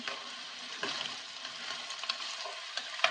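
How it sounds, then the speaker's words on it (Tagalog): Chicken curry for a simple Korean-style version bubbling and simmering in a pot, a steady low sizzling hiss with small pops and scattered clinks of stirring throughout. "Atong isang pakuluan. Atong pabukal-bukalon o gamay."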